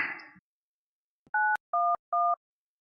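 Telephone keypad being dialed: three clear, evenly spaced DTMF tone beeps after a brief noise at the start, heard alone in an otherwise quiet room.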